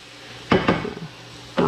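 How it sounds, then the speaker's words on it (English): A spoon knocks against a pan of browning ground pork filling for a meat pie, giving two quick close clanks and then a third a moment later, with no talking. "knock off the spoon a little bit there"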